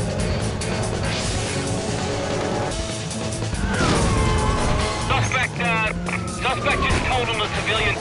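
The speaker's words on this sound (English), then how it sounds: "Suspect just totaled a civilian car." A car crash in the Need for Speed Undercover video game, as a civilian car is totaled during a police chase. Loud, dense crunching impacts and engine roar sound up close amid chaotic game noise and babble.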